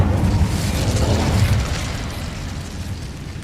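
A fire spell cast in the Hogwarts Legacy video game bursts out as a loud, rumbling whoosh of flame that peaks in the first second and a half, then settles into a steady roaring crackle.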